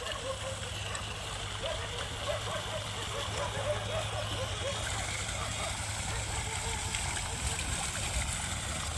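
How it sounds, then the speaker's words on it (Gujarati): Water gushes from an overflowing village water-supply sump tank at Samadhiyala No. 1 in Botad district, near a road. It makes a loud, continuous rushing roar, with faint voices beneath it. "લાખો લીટર પાણીનો વેડફ થઈ રહ્યો છે."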